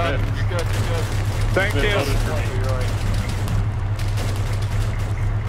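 Gunfire from a video game battle crackles over a steady low engine drone, with voices talking across it.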